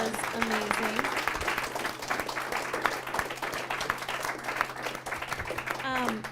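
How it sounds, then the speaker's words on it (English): An audience at a blockchain policy meetup claps steadily for a speaker, dense continuous applause lasting several seconds with brief voices heard over it. "if we want to give a warm applause to our speaker"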